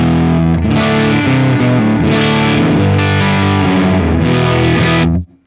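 Heavily distorted electric guitar played through a Mesa/Boogie Mark amplifier with the bass EQ turned up, thick sustained chords and riffing, loud and close, ringing out before cutting off abruptly at the end.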